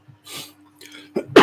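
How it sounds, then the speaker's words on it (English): A couple of short, sharp allergy coughs close to the microphone, the last one loudest, with a low steady hum in the background. "I have a weird cough because I'm allergic to ragweed"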